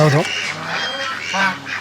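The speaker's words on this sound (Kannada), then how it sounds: "ಇಲ್ಲಿ ಬಾತುಕೋಳಿಗಳಿದೆ, ಮತ್ತೆ ಹೆಬ್ಬಾತು ಕೋಳಿಗಳು." Ducks and geese at an animal enclosure give short nasal quacks and honks, loud and close, in two brief bursts with a pause between.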